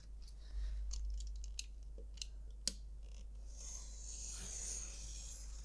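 A blade drawing along a ruler through paper while trimming away a black border line for a Polaroid-style frame, giving faint scratchy slicing with a few brief sharp clicks, quiet and close with no talk.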